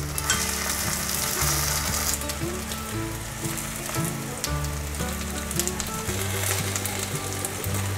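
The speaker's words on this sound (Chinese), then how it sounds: "另一面再让它煎至焦黄色" Taro strips fry in oil in a pan, browning on their second side, with a constant close sizzle and crackle and a few dull knocks of utensils against the pan.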